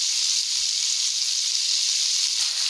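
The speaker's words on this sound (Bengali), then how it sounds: "চিংড়ির মধ্যে একটু হলুদ আর নুন দিয়ে চিংড়িটা ভেজে নেব" Prawns seasoned with turmeric and salt fry in mustard oil, giving a steady close bright sizzle and hiss that holds even throughout, with a couple of faint low knocks and no talk.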